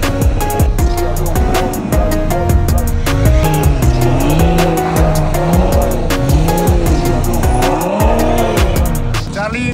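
An Audi quattro car drives with a steady, loud engine drone, tone rising and falling as it shifts through gears, continuous and close throughout.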